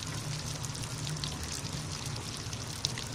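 Oil is poured in a steady, close trickle while an herbal remedy is prepared, a continuous soft liquid stream with no talk.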